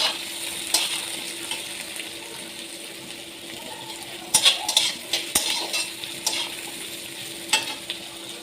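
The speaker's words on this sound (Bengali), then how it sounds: "পেঁয়াজ লাল লাল করে ভেজে নিলাম" Chopped onions frying in a kadai with bay leaf, cardamom, cinnamon, cloves and ginger give a steady soft sizzle, broken by a few sharp clinks and scrapes of a stirring spoon against the pan.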